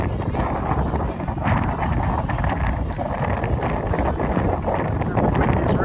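Strong wind buffets the microphone at an outdoor football ground during a match, a loud continuous rumbling gust under a commentator's voice.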